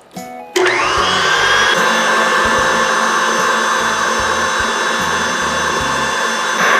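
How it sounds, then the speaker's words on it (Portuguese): A stand mixer beating meringue runs at high speed, its steady loud motor whine starting abruptly after a brief quieter moment and continuing unbroken, with faint rhythmic knocks of the whisk underneath. "A gente pode desligar a batedeira um pouquinho e raspar nas laterais para não ter nenhuma perda de açúcar. Junta bem e volta a bater."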